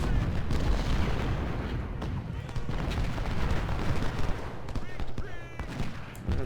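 Civil War infantry firing volleys in the strategy game Ultimate General: Civil War at the Battle of Shiloh, dense crackling musketry and booms rolling on without pause, with someone talking over the battle.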